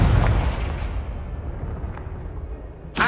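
A Confringo blast spell going off in a Harry Potter video game: one loud, deep explosive boom that rumbles and slowly fades over a few seconds, then a sharp fresh burst right at the end, with no talking.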